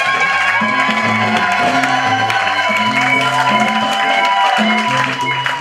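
Wedding guests at a religious wedding ceremony cheer and acclaim together, a loud, sustained crowd roar with shouts and whoops layered over steady tonal music throughout.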